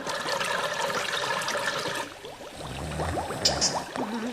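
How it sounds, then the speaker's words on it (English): Water runs from a bath tap and splashes, first as a dense rush, then as a lighter trickle with gurgles and a faint squeak near the end. "is that bath still running?"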